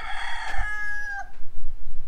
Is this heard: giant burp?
no